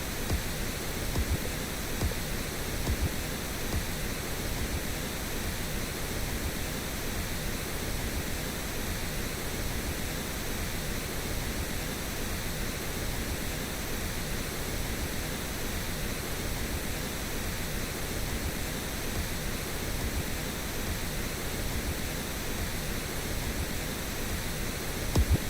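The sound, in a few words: pink noise with kick drum while mixing a song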